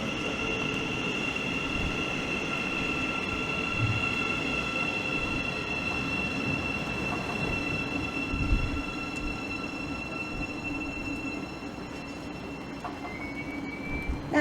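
A Class 700 train pulls away from Harlington station after a brief stop, a steady rolling rumble with high whining tones and a squeal near the end, continuous and fairly close.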